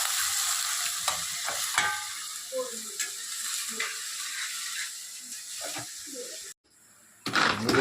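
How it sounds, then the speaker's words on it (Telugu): Onions fry in oil previously used for frying chicken leg pieces, with a steady sizzle under repeated scraping and clattering spoon strokes; there is a brief silent gap before the sizzling returns. "ఇదిగోండి ఉల్లిపాయలు వేగినాయి కదా"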